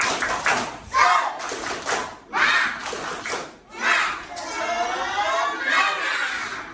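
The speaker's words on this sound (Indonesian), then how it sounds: "Oke, tepuk semangat." A classroom of students performs a rhythmic spirit clap in bursts of quick, patterned hand claps separated by short pauses, with children's voices chanting along near the end.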